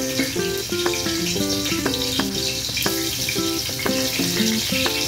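Ginger drops into hot cooking oil and fries with a continuous broadband sizzle, heard beneath a plucked, rhythmic music track with no talking.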